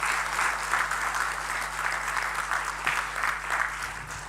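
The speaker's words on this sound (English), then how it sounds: "Whoever is happy to be here this morning, could you please give us a round of applause?" An audience at a campus convocation morning applauds in a sustained, even wash of clapping from a large crowd, moderately loud, with a low steady hum underneath.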